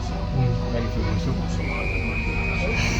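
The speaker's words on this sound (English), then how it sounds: "Ready for whistle." Flying Scotsman steam locomotive sounds a long, steady whistle at the NVR heritage railway station, a sustained tone that carries through loud crowd and platform noise.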